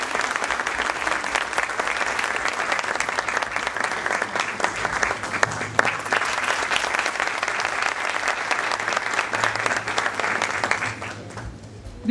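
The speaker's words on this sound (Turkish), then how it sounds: "Alkışlarınız solistimiz için." Sustained applause from a concert audience at a Turkish art music concert, welcoming the soloist; dense, steady clapping fills about eleven seconds at even loudness, then tapers off sharply near the end.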